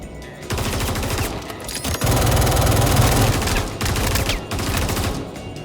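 Energy rifles fire in the Star Citizen video game, long loud bursts of rapid buzzing, rattling shots in sustained volleys with brief pauses between them.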